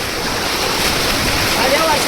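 Water rushes steadily down a waterfall at Malanggad fort as a loud, continuous, close roar filling the whole clip.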